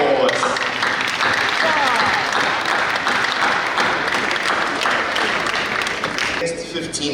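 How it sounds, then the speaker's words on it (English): A ceremonial symposium audience at KNUST in Ghana breaks into loud, sustained applause for a royal book presentation, dense clapping filling the room steadily for several seconds before thinning slightly at the end. "A round of applause."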